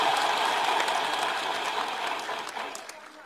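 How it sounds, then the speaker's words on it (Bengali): A large audience bursts into loud, dense applause at a public address, a steady wall of clapping that holds for several seconds before gradually thinning toward the end. "আমাদের উচ্ছ্বাসের জন্য একটা জোরে হাততালি দিই"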